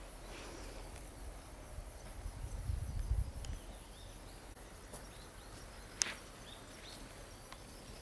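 Grasshoppers chirp in a field on a mountainside, a faint, steady high-pitched trill that runs throughout with no talking, broken by one brief sharp click near the end.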